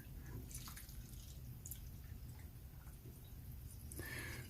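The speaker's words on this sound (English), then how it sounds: "While it's soaking, I'm just going to pour some denatured alcohol inside there." Denatured alcohol poured into a Wenzel kerosene lantern held in a vise, a faint liquid trickle with scattered drips and splashes over a low background hum, quiet and close, with no one speaking.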